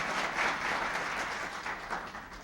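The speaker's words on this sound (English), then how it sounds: "Give them a round of applause." Applause from an audience at a student African American history quiz bowl, honoring the team members, a moderately dense patter of clapping that rises and dips slightly, with no voices heard.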